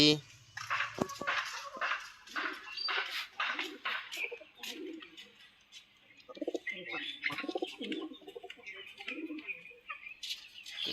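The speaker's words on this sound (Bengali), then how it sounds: "এগুলো হচ্ছে হাঁস মুরগি কবুতরের ঘর" Pigeons coo softly in a house kept for ducks, chickens and pigeons, with chirps from other birds mixed in, while a person talks over much of it.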